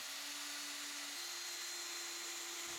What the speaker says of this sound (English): mark our new holes with a marker and then drilling them in on the